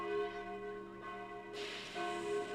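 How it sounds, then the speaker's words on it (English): Alarm bells ring in the Sudeki video game, a resonant tolling bell tone with long sustained overtones that swells again partway through, heard alone without talk. "the alarm bells are ringing"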